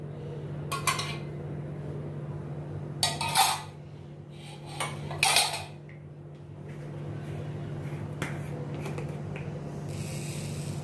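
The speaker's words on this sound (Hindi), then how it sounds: "गैस में मैंने पैन रख दिया। इसमें मैं ये 2 चम्मच रिफाइंड ऑयल डालती हूँ।" A metal pan set on a gas stove clanks a few times in short, scattered bursts over a steady low hum, with quiet gaps between and no voices.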